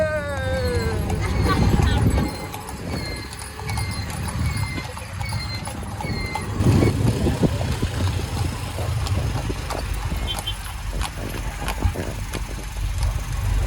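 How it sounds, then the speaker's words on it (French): Horse-drawn carriages on a road leaving the Marrakech medina, with steady rhythmic clip-clop of hooves close by, mixed with engine hum and traffic while someone talks over them. "Et devant, on a des carrosses."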